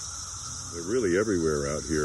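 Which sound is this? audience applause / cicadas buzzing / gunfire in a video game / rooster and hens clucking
cicadas buzzing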